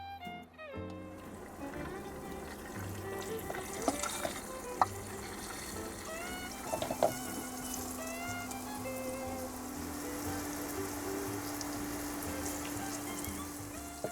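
Fish karaage coated in potato starch sizzles in a frying pan with one to two centimetres of hot oil, inside a small van, giving a steady crackling hiss with occasional pops and a voice briefly speaking.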